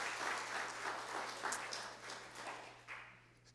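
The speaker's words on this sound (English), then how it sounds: "let's give another round of applause for the Rabbi" A congregation at its annual meeting applauding the Rabbi, dense sustained clapping from many hands that gradually thins and fades toward the end.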